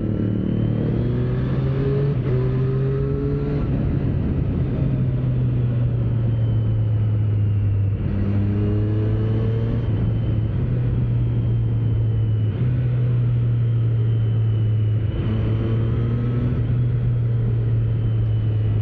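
A 2025 Triumph Street Triple RS motorcycle ridden on the road, its engine droning loud and steady throughout, rising and falling through several gear changes with constant wind rumble.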